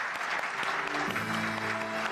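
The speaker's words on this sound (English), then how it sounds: "A big round of applause for him" An audience at an award ceremony applauds with steady, dense clapping throughout, while a sustained musical tone comes in partway through.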